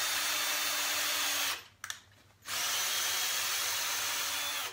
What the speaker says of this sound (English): I'm trying to drill right in the middle of one of these little